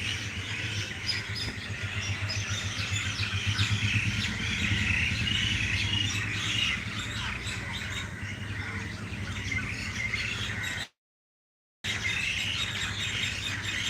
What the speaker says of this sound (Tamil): அது நிறைய குருவி இருக்குது.